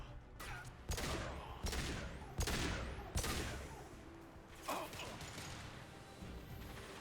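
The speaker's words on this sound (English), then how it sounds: "Firing a high-impact shot!" A high-impact rifle shot booms in the sci-fi shooter Mass Effect 2, part of a run of five or six heavy blasts spaced about a second apart, each with a sharp crack and rumbling tail, amid combat noise.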